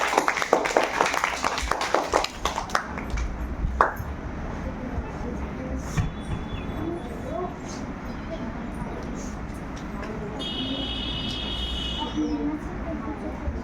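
Hand clapping, a loud flurry of sharp claps near the start that then fades into a noisy, crowded space where people talk throughout.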